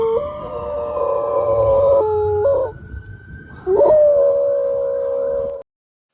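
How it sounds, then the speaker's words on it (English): A dog howls along to sirens in long, wavering tones, pausing briefly before howling again, with a faint siren-like wail beneath. "my sister sent me this video of her dog Blue howling along to the sirens"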